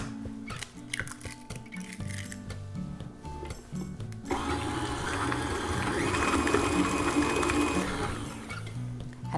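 An electric mixer beats eggs into cheesecake batter. It starts as a lower whir with kitchen clatter, then rises midway into a louder, steady high-speed drone that holds close to the end.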